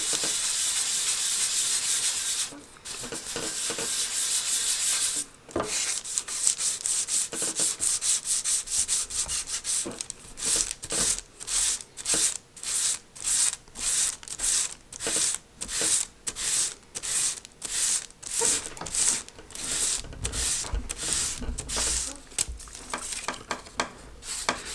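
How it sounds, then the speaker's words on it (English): Hand sanding of the balsa wood wing on a small Mini Cat's Meow AMA catapult glider, a close, steady rubbing at first, then a run of quick, rhythmic back-and-forth strokes with no talking. "I'm only sanding out like that"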